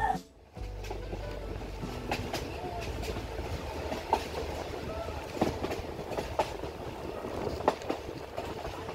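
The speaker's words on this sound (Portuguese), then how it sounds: "O trem tá andando!" A train runs along the rails with rhythmic clicks and clunks of wheels over joints, a steady rumble with occasional sharper knocks, heard from inside a carriage during a breakfast ride near Campinas, Brazil.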